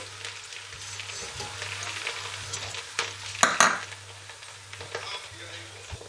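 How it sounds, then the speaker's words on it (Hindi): Crushed garlic sizzling in a pan as a chicken bhindi masala gets started, a steady close hiss with scraping stirs and a couple of louder clatters midway, a low hum underneath and no talking. "ये जो हमने थोड़ा सा लहसुन कूट के रखा है इसको डालेंगे। डालने के बाद इसको भूनेंगे।"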